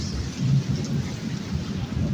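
A deep, rumbling roll of thunder during a night storm swells and lingers over steady rainfall, with no voices.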